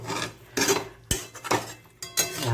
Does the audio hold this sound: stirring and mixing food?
yes